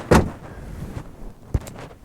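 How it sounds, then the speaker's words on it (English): A Jaguar Mk2 car door shuts with a solid thump close by, followed by a fainter knock and some light rattling in a quiet interior. "So let's close the door"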